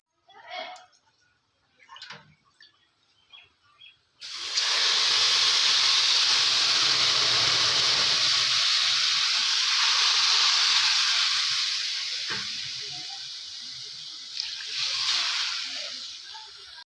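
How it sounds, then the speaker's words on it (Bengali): Water poured into a hot pan of basanti pulao erupts into a loud sustained hiss and sizzle that slowly fades, preceded by a few seconds of speech and ending with faint voices. "এবার এতে জল দিয়ে দেব।"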